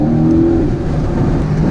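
A car accelerating hard in race mode on a highway between Dubai and Abu Dhabi, with a steady loud engine roar and exhaust crackle throughout, no voices.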